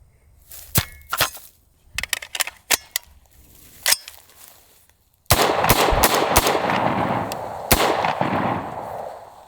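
Budget AR10 rifle firing during a torture test: a string of sharp single shots spaced apart, then a louder sequence of close, reverberant cracks with a ringing tail.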